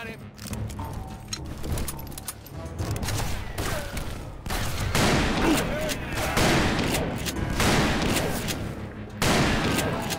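Dense gunfire from the Western shooter Call of Juarez: Bound in Blood, with repeated revolver and rifle shots in rapid bursts, loud and close, with speech heard over the shooting.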